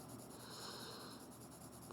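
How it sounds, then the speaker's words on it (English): A pencil shades on paper at close range: a soft, continuous graphite scratching, quiet and unbroken, that swells slightly toward the end. "as I'm shading, I'm going to gradually let up on the pressure of my pencil"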